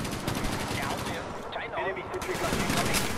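Automatic gunfire from a sentry gun in Call of Duty: Black Ops, a dense, steady stream of rapid shots throughout, close and loud, with game noise mixed in.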